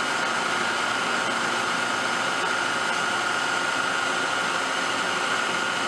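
A Racer HB 110CB CNC horizontal boring mill spindle turning at 1000 RPM, giving a steady, continuous whirring hum with an airy hiss that holds even throughout, close and alone without talk.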